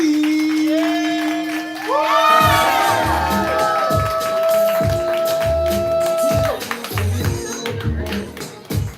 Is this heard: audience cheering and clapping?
yes